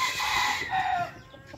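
Chickens cluck and a rooster crows nearby on a backyard chicken farm, a short, close burst of busy fowl calls with one drawn-out crow in the middle.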